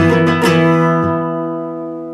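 A guitar strums a power chord at full speed with a few quick down-up strokes, then one more stroke. The chord rings out and decays, played close and alone.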